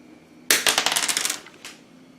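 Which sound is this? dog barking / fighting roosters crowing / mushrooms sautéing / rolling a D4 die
rolling a D4 die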